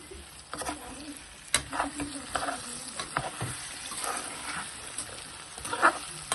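Spatula stirring jackfruit seed and raw mango curry in a hot pan, soft scrapes and clinks over a faint sizzle, with a dog barking faintly in the distance.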